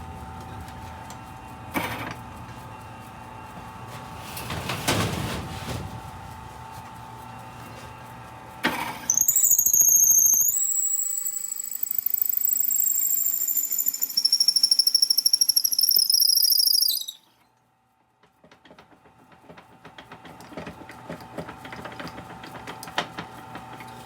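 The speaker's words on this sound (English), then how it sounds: "Don't you just love how squeaky that stupid drill bit is?" A 10.5mm drill bit squeals while boring a sapele mahogany pen tube, with a loud high-pitched squeak that holds for several seconds beneath a steady machine hum, preceded by shorter drilling bursts and followed by quieter clattering.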